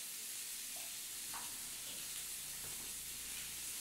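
Chopped tomato fries with salt in a pan for an egg curry. A constant loud sizzle and hiss carries through, with brief stirring scrapes near the middle and no talking.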